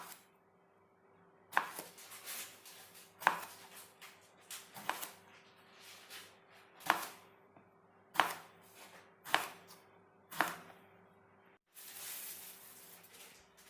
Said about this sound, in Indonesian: Lanjut kita potong-potong terongnya.